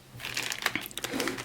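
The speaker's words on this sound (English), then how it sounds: "I'm gonna get some paper towel." Paper towel is pulled and handled up close, giving soft crinkles and light papery rustles in a short, uneven burst with no speech.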